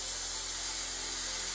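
A Haas minimum quantity lubrication atomizer nozzle sprays oil mist as a steady, even hiss close by, with no talk.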